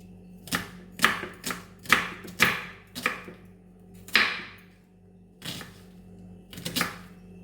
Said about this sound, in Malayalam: സവാള നുറുക്കി വെച്ചു